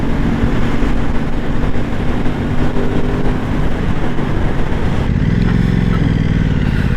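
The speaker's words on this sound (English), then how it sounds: "you open the throttle, the induction noise is amazing sound" An Aprilia Tuono 660 motorcycle engine revs loudly and continuously, its induction roar rising as the throttle opens, with deeper tones building toward the end.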